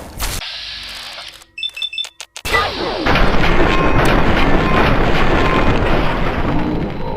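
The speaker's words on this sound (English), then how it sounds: "Contact! Opening fire!" Gunfire and explosions from the Fallout 3 video game: a few short sharp bursts and gaps, then a loud sustained crashing barrage of shots and blasts filling the rest.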